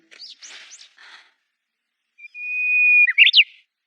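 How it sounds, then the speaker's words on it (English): A bird sings in an animated series: bright, high chirping notes in a short flurry, a pause, then a long steady whistled tone ending in quick rising trills, close and clear against silence. "Who knows what's gotten into that bird? It's been singing for hours."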